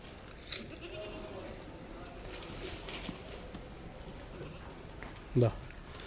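One short goat bleat rings out near the end, over a quiet outdoor background with faint murmuring.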